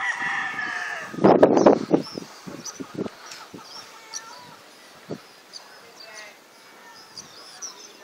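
Chickens cluck and crow nearby, with a loud burst of squawking early on, then scattered softer clucks and calls over quiet outdoor background.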